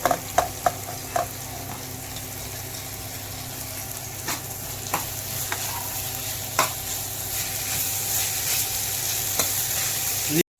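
Cabbage and capsicum fry in a hot pan, a continuous sizzle with occasional sharp scrapes and taps of a spoon as the vegetables are stirred, close and steady with no talk.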